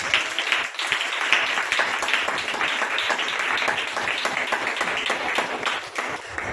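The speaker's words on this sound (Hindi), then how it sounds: "ताली बजाओ ना यीशु के नाम पे।" Church congregation clapping hands together at a healing service, a dense, steady wash of many hands that runs throughout without a break.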